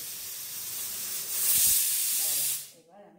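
Steam hisses from a pressure cooker after cooking jeera rice, a broad steady rush that swells for a moment midway and then cuts off abruptly, leaving faint murmuring voices nearby.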